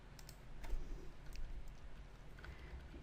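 A computer mouse clicking while editing in Photoshop, with a few quiet, sharp clicks scattered over a faint background hum, close to the microphone.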